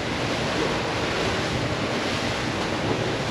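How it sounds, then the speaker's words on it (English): Continuous rushing wash of water surging over a boat's bow, loud and broadband with wind noise blowing across the microphone. "more water over the bow"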